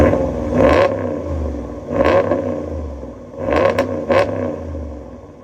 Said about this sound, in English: I'm gonna let it warm up just a minute and then we'll give it a couple little revs for you.